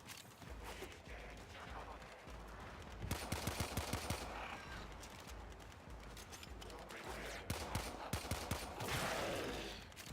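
Rapid bursts of pistol gunfire in the video game Warframe, dense clattering shots in quick volleys over a steady layer of game noise, loud and continuous.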